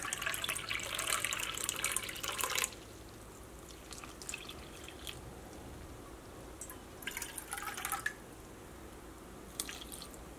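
Water pours into rice flour batter for crisp fried vada, a bright splashing trickle for about two and a half seconds, then a few short, softer pours and drips follow in a quiet kitchen.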